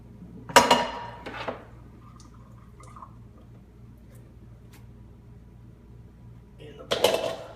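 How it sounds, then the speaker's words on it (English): Boiled potatoes for Irish potatoes with cabbage are tipped into a colander at a kitchen sink: a few short splashing, clattering bursts of water and metal, with a low steady hum in the quiet stretch between them. "I'm going to strain them in a colander just to take the water out of them."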